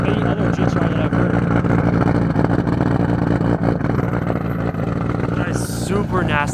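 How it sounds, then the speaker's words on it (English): A Nissan GT-R engine running on E85 fuel drones loud and steady with a deep, continuous rumble, and a voice speaks over it near the end. "It sounds so crazy. This is unlike any other GTR that I've heard."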